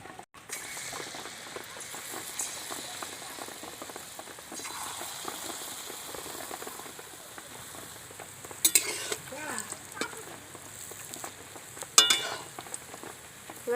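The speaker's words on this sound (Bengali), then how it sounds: "এবার বাকি বড়াগুলো আমি একইভাবে ভেজে নেব।" Tal bara, palm fruit fritters, fry in hot oil with a continuous close bubbling sizzle and occasional stirring scrapes, with no voices.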